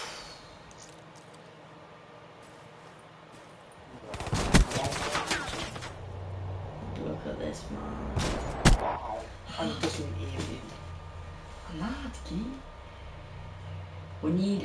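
Shotgun blasts in a PS4 multiplayer shooter, a few sharp loud bursts after a quiet start, followed by rumbling game noise and scattered thuds while players talk.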